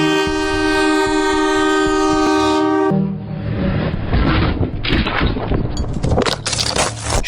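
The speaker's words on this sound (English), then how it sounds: "the train coming like this" A train on a railway track in Hyderabad blares a loud, sustained horn as it approaches, then the heavy clatter and rumble of the passing wagons takes over, rough and close.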